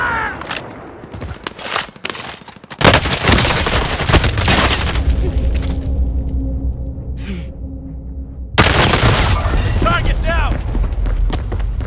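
Heavy gunfire and explosions in a video game combat scene: dense bursts and booms sustained at high loudness, a brief lull with a steady hum, then another surge of firing and blasts, with voices calling out amid the chaos.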